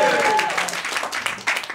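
A comedy club audience on a Saturday night bursts into loud, dense applause, a close wash of clapping with a few cheers mixed in.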